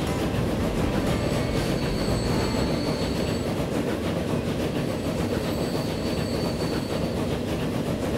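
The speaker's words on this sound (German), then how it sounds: "Ah, zwei Züge kommen gleich rein." Trains pulling into a station in the transport simulation game Transport Fever: a steady, loud rumble of rolling rail wagons with faint high wheel squeals drifting in and out, continuous throughout with no talking.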